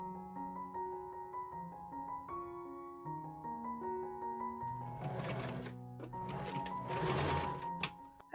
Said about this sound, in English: I pinned the placket to the back seam of the skirt and machine sew it in place.